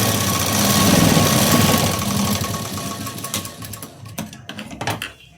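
A sewing machine stitching a fabric join onto a blouse sleeve runs loud and steady at first, then turns into short stop-start bursts of stitching with pauses between them.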